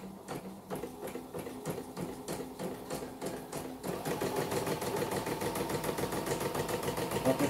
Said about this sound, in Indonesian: Oke, sudah sangat lancar sekali ya, mesinnya langsung lancar.